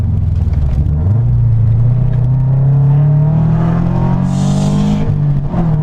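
A Subaru BRZ engine drones loudly and steadily through a steep turn, its pitch rising gradually with a brief higher whine near the end, close and continuous without talk.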